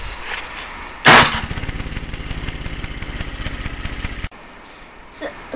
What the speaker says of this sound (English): make sure you don't turn on the snowblower in the garage because the exhaust fumes are dangerous. I'm going to turn it on.